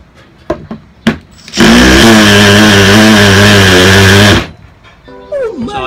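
A loud cordless drill in hammer mode runs for nearly three seconds with a rough, buzzing hammering rattle under the motor whine, then cuts off.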